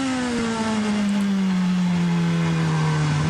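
An IndyCar race car engine screams past on a road course with one steady high-pitched whine whose pitch slowly drops as it pulls away. The sound stays loud and continuous for about three seconds with no talk.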